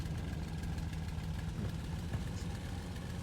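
A World War II aircraft engine idles in the IL-2 Sturmovik flight game, a steady low rumbling drone with vibration, continuous and fairly loud, no talking.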